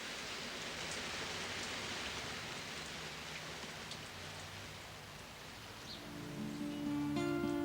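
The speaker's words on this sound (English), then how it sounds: "the rain's starting to come down and water it in" Steady rain falls on a wildlife garden with a dense, even hiss, continuous and moderately loud; some faint tones and rustles come in near the end.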